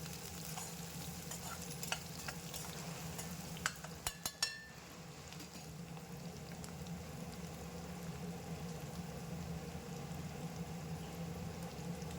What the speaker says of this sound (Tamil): இதை நல்லா நம்ம ஃப்ரை பண்ணிக்கலாம்